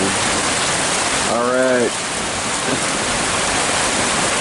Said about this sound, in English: It's hailing again.